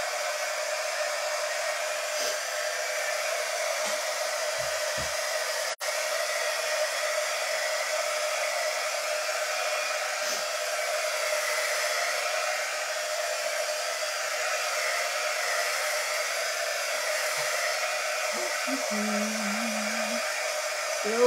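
An embossing heat gun runs continuously, drying ink on metal with a steady close blower whoosh and hum that barely changes over twenty seconds, with faint brief bumps and no voices.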